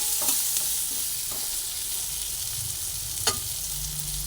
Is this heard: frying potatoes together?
yes